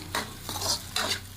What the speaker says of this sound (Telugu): ముందుగా కట్ చేసి పెట్టుకున్న ఆనియన్స్, క్యారెట్, పచ్చిమిర్చి, కరివేపాకు ఇవన్నీ వేసుకుందాం అండి